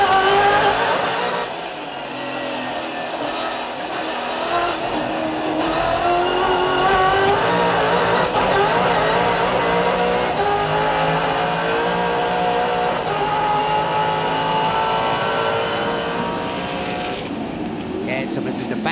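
Onboard lap in the Mitre 10 Ford touring car at Calder Park Raceway during the 2000 Shell Championship, its engine roaring loud and close throughout, pitch climbing and falling through gear changes with brief tyre noise, while a commentator talks over it.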